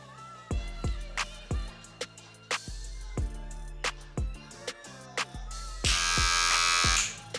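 Partly charged Wahl Magic Clip cordless hair clipper buzzing steadily for a second or so near the end, close and loud, over a thumping rhythmic beat that runs throughout.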